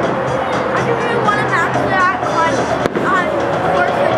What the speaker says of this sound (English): That's the China fireworks there.